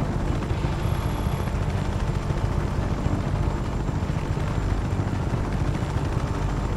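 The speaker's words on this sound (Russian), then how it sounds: "Вертолет, конечно, это фундаментальный такой." A helicopter flies in Just Cause 3, its rotor and engine a steady, loud, dense roar that fills the whole stretch without letup, with no voices.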